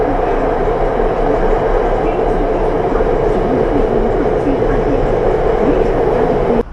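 A Chongqing metro train running, with a loud, steady rumble and rattle that continues unbroken throughout and cuts off abruptly at the end.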